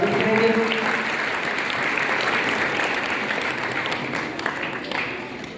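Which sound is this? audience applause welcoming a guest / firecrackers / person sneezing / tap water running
audience applause welcoming a guest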